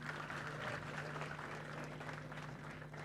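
An audience at an educational conference claps steadily as a dense, even wash of applause, moderately distant and soft, with a low steady hum underneath.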